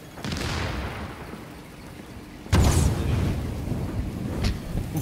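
A grenade blast in Tom Clancy's The Division lands as one sudden loud boom that rolls into a rumbling tail, following a stretch of low game ambience.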